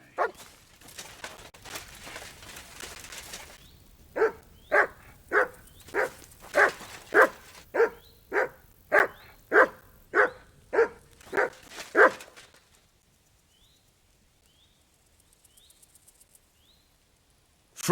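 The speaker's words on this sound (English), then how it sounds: "Sit and bark." A dog in Kingdom Come: Deliverance II barks on command, a steady run of about a dozen sharp, evenly spaced barks close by, after some rustling and before a quiet tail.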